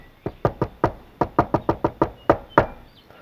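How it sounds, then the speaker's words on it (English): A loose wheel clip on a Can-Am Ryker rattles in a run of about a dozen sharp, close knocks, irregularly spaced and fairly loud, with nothing else over them. "I started to hear this rattle sound"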